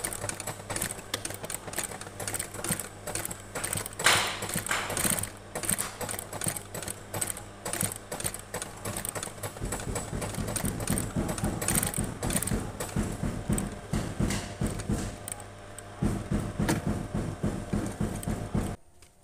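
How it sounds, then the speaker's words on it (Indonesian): Sewing machine stitching a sandal upper to its lining, running in a steady rapid mechanical patter for the whole stretch with no talk, picking up a heavier chugging rhythm in the second half. "Oke, sekarang kita akan jahit lagi dengan liningnya."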